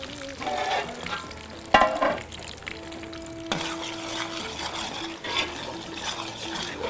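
Hot oil sizzles and spatters as a tadka for dal is fried on a cooking show, a steady crackling fry with brief louder pops and stirring.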